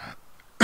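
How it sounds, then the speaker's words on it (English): Two short, harsh coughs, one at the start and a louder one at the end, with a throat-clearing rasp between them in a quiet studio room. No talking is heard. "Right, stop this cough."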